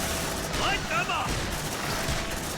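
Gunfire in the video game Aliens: Dark Descent rattles in a dense, continuous fusillade mixed with booms and mechanical game effects, with a voice heard faintly in the mix.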